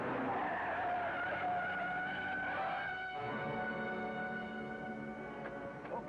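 A car revving as its tires skid and squeal loudly, then the engine settles into steady driving, close and continuous with no talk.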